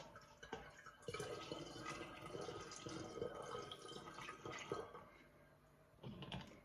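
Water trickles and splashes steadily into a container of homemade plum wine, topping it up, a soft continuous pour with faint dripping, fairly quiet and close.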